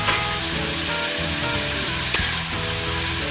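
Onions hit a hot pan of frying potatoes and sizzle loudly and continuously, a dense crackling hiss with a brief sharp spatter partway through.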